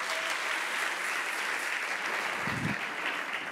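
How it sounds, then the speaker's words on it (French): Audience applause greets contestant Guillaume Bayon-Vicente at a Ma thèse en 180 secondes event: steady, dense clapping from a crowd that fills the whole stretch at even loudness, with a brief low thump near the end. "On peut l'applaudir."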